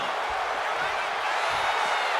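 A virtual arena crowd in WWE 2K26 cheers as CM Punk rallies them, a dense steady roar of noise with commentary faintly underneath.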